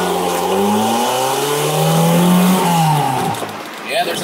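A 1972 Toyota Celica engine fitted with a Weber carburetor revs hard, its pitch climbing steadily and then falling back. The loud engine note stays close throughout, with brief voices under it.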